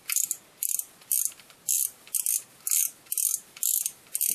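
A fishing reel's front drag being unscrewed gives off rapid ratcheting clicks, close and crisp, in about nine short, evenly spaced bursts with brief silences between them and no voices.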